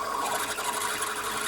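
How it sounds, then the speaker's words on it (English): A 5.5 mm drill bores mounting holes through a part in a home workshop shed, giving a steady, close grinding whir that runs without pause. "So I'm just drilling the 2 holes now to mount it to the existing"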